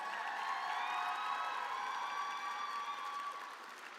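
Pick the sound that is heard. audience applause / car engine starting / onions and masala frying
audience applause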